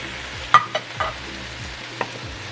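Spinach stirred in a hot frying pan, a soft sizzle running throughout with a few light utensil scrapes and taps against the pan, close and fairly quiet, no talking.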